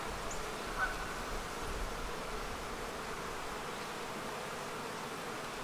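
Honeybees buzzing around an open hive frame, a steady dense hum close by that continues throughout without talk.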